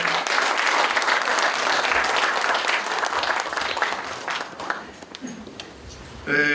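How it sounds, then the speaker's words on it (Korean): A church general assembly congregation gives applause of thanks for accompanying guests, a dense clapping wash that fades after about five seconds, leaving a few scattered claps. "함께 오신 분들을 위해서 감사 박수 보내겠습니다"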